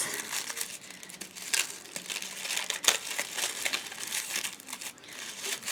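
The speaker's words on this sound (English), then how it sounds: "Just take all the tissue paper off." Tissue paper wrapped around a present is crinkled and crumpled as it is pulled off, a continuous close rustling with sharper crackles throughout and no talking.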